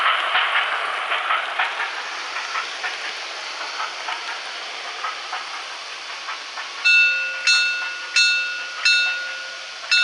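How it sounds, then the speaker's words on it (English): Märklin model passenger cars clack over the track joints in a steady rhythmic patter, and a locomotive's chuffing and chiming sound effects join in near the end. "You can hear the clickety clacking from the passenger train"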